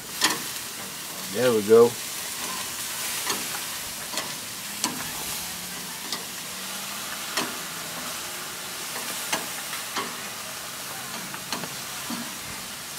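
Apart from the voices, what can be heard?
pastor pork searing and sizzling in a pan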